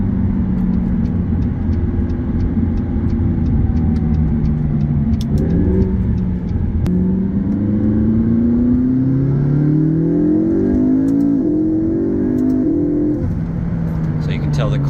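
A 2012 McLaren MP4-12C engine drones and rises steadily from inside the car while driving, with pitch climbing and dropping at gear shifts, and a person talks over the constant engine noise.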